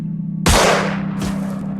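A single loud gunshot in the strategy game Xenonauts cracks sharply and decays over a steady low electrical hum, followed by a fainter second report.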